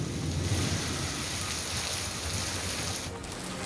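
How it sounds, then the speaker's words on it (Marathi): Heavy rain pours down in the evening around Katraj, Ambegaon and Jambhulwadi in Pune, a dense, loud, unbroken roar with a low rumble of thunder beneath it. "विशेषतः कात्रज आंबेगाव जांभूळवाडी नरे परिसरामध्ये मुसळधार पाऊस पडतोय"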